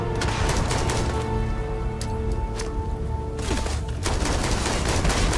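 Dense, sustained automatic gunfire in the sci-fi game Starfield, near and loud, with overlapping bursts, a short lull, then heavy firing again.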